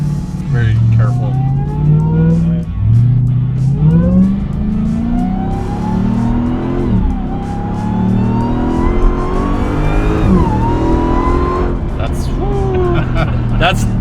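Demon-powered Hemi Jeep Gladiator at light partial throttle, a loud, close V8 growl with several rising and dropping rev sweeps as it accelerates and shifts, with people talking over the engine.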